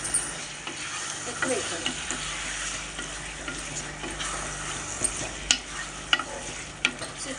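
Ginger garlic paste frying and being stirred with chicken for a mango chicken curry, a continuous sizzle broken by sharp spoon scrapes and clicks against the pan, with a voice speaking briefly.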